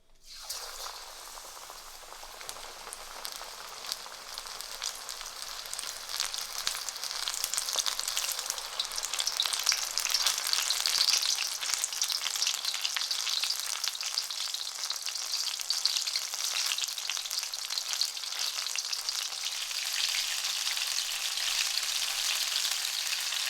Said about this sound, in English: Okay, it's time to fry them.